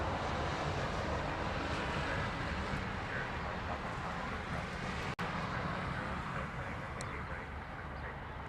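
Jetstar airliner with turbofan engines at Honolulu airport, giving a steady, broadband roar that holds loud and continuous throughout, with wind-like rushing and no clear voices.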